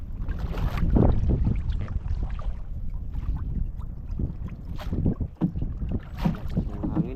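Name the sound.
strong wind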